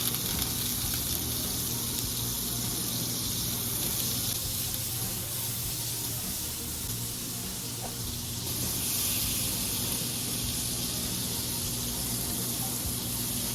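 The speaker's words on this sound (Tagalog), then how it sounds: "Ngayon medyo nagbo-brown na yung bawang natin. Pwede na natin ilagay yung ating butter." Garlic and butter sizzle steadily in a frying pan over lowered heat while preparing spicy shrimp gambas, a dense, even hiss that continues unbroken and close with no talking.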